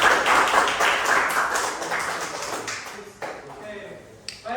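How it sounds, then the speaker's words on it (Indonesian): A classroom of students gives a group presentation a burst of applause, many hands clapping together in a dense, fairly close patter that slowly thins out and fades, with a few stray claps near the end. "mari kita beri aplaus untuk kelompok 2"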